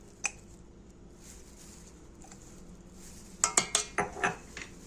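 A rice kofta mixture with cumin, cinnamon, seven spices and chili is stirred in a bowl, giving a quiet lone clink early on, then a quick run of five or six clattering spoon-on-dish hits near the end.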